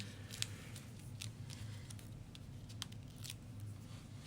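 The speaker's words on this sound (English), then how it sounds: "I just like use my scissors and then I pull off pieces like little by little" Scissors snipping paper card stock during a paper pumpkin card craft, a series of sharp, brief cuts spaced irregularly over a steady low background hum, fairly close and quiet.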